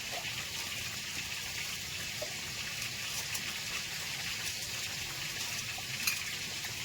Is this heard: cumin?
yes